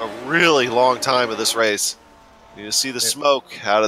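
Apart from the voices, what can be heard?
No distinct noise like a dog, phone or traffic.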